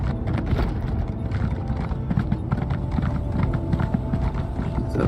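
Steady clip-clop of horse hooves in The Elder Scrolls Online in a quick rhythm, loud and close, with a whinny blending in over the constant trotting.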